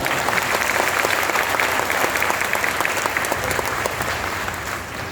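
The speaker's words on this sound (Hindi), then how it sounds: "वो एक बार ताली बजा कर मेरा हौसला बढ़ा" An audience claps steadily at a Hindi poetry recital by Hari Om Panwar in an auditorium in Raebareli, a dense, loud burst of applause that slowly tapers off toward the end.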